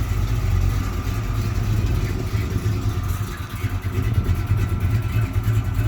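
A 1987 Chevy S10 with a V8 engine and a 3800 stall converter drives out of a garage, its loud, steady engine rumble running throughout with slight swells in revs.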